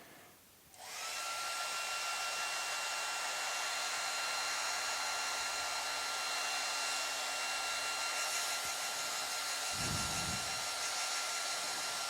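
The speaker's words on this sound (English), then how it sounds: "this paw is going to need another blast from the hair dryer" Hair dryer blasting on acrylic paint, switching on with a rising whoosh and then a loud, steady whirring roar that runs continuously and alone, with a brief low thump partway through.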